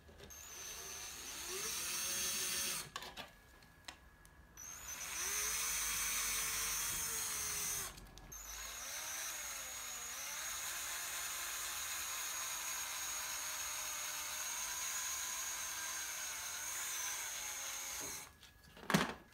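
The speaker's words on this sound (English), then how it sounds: "I'm literally just going to drill this wherever I want" A power drill whines through plastic on a Nerf Heart Breaker bow in long bursts, pitch rising and sagging under load, separated by brief pauses, close and loud, ending with a sharp clunk.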